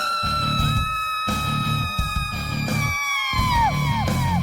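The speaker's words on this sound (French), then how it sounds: "Après cette fameuse séance de cris" Several people screaming and yelling for a haunted castle funhouse soundtrack, with long high shrieks sliding downward over a steady low rumble, loud and continuous with overlapping voices.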